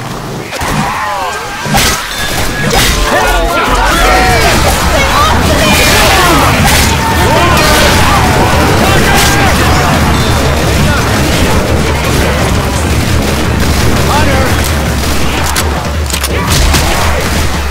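Grenade launcher blasts in Left 4 Dead 2 play out as dense, continuous booms and crashes amid chaotic game noise, loud throughout, with voices mixed in.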